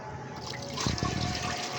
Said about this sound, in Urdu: 4 مگے اس میں ہم نے پانی سادہ ڈال دیا